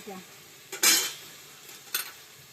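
A lid goes onto a kadai as an eggplant and mustard curry cooks: two brief metallic clinks about a second apart over a faint, quiet kitchen background.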